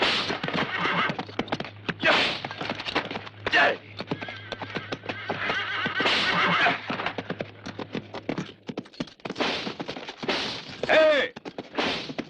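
A horse whinnies and hooves clatter in a western action film scene, with irregular loud thumps and sharp bursts, a neigh near the end, and a low hum running under the first two thirds.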